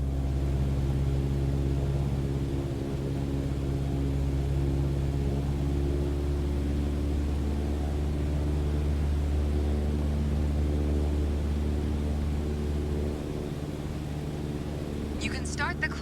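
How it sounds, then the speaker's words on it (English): A Cessna 152 engine in Microsoft Flight Simulator drones steadily at full power during a climb, a continuous, even hum that drops slightly near the end, where a brief high clatter appears. "On the Cessna 152, you need full power to climb effectively."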